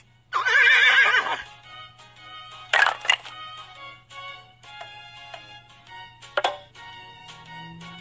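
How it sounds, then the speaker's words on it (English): A horse whinnies loudly in a children's animal matching puzzle game, one long shaky neigh up front, followed by a few shorter bright chimes and clattering effects at lower volume. "Horse."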